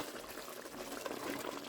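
Chicken simmering in water in a cooking pot, giving a faint, continuous bubbling and gurgling with no voices over it.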